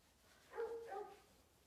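A dog indoors gives a couple of soft, whiny barks close together, faint and brief against a quiet room.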